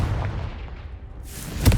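A Confringo blast spell in the video game Hogwarts Legacy: a dull, low rumble throughout, then a sharp, loud burst near the end, close and unaccompanied by voices.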